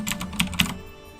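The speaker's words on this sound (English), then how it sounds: "I was trying to play this game with the mechanical keyboard, and it's just, you hear the clacking constantly" Blue-switch mechanical keyboard clacking, a handful of crisp, sharp keystrokes in quick succession, close and fairly loud, fading into quiet room tone.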